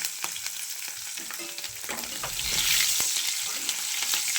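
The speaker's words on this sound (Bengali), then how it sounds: "এটা একটু ভাজা ভাজা করে নিচ্ছি।" Chopped green chilli, whole garlic cloves and bay leaf fry in oil with a close, steady sizzle that swells louder partway through, broken by light clicks and scrapes of stirring.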